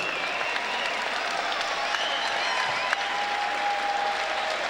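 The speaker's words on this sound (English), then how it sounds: "how about a round of applause for these boxers?" A crowd at a charity boxing event claps for the boxers after a 205-pound bout between LAPD and LASD fighters, a steady, medium-loud roar of applause with a faint whistle and arena murmur underneath.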